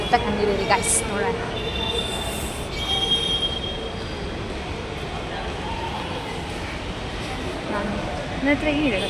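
A metro train moves through a station, its wheels squealing in high, drawn-out tones over a steady rumble, while a person talks close by.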